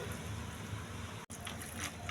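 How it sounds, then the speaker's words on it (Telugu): Water splashes and sloshes steadily as soya chunks are washed in a container, a soft continuous wash with a brief break midway. "మిల్లీ మేకర్లో వాటర్ పోసి ఒకసారి కడగాలండి."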